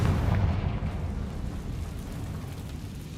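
A Confringo spell blast goes off in the Hogwarts Legacy video game: a heavy, rumbling explosive boom, loudest at the start and then fading into a sustained low roar.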